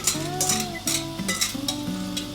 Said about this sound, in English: All goes into the pan together like that. Pan back on the heat. A few of these capers. Mix it all,